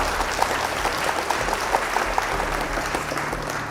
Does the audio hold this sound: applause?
yes